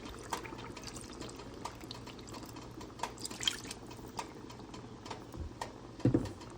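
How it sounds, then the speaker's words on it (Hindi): Water is poured into a pot of chicken curry to make the gravy, a soft, quiet trickle and splash with a few louder sloshes near the end. "अभी जो है हम शोरबे के लिए, करी के लिए पानी डाल देंगे जितना हमें चाहिए।"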